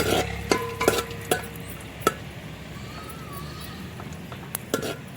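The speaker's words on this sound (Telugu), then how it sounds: "dry fruits వేగుతున్నాయి" Dry fruits frying in ghee for beetroot halwa, with a utensil clinking and scraping against the pan in several sharp knocks over a low sizzle, close and fairly loud, without talk.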